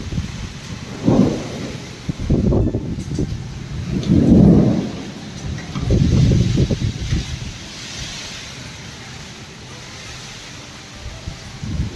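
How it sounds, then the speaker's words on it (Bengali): Heavy rain roars steadily on a rooftop as strong wind gusts buffet the microphone in several loud surges, then ease into a constant downpour. "চারপাশটা তো বিশাল বৃষ্টি বিশাল হাওয়া দিচ্ছে"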